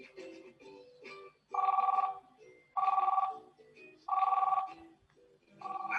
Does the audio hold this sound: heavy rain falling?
no